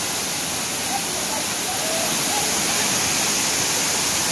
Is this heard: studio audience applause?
no